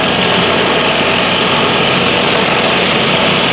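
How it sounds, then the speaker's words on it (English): High-pressure surface cleaner cleaning pavement, a loud, steady engine drone with hissing spray that holds constant throughout, close and unbroken. "The nozzles that are used in this surface cleaner are high pressure, so it does really well as far as the cleanup."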